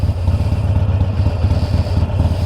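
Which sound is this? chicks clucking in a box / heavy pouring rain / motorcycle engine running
motorcycle engine running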